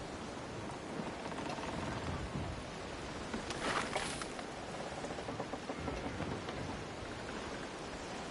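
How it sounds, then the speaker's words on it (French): Steady heavy rain pours with a rumble of thunder midway in Assassin's Creed Black Flag, a dense, even wash of sound with no voices. "Chaque fois que je m'en approche, il y a la pluie qui tombe."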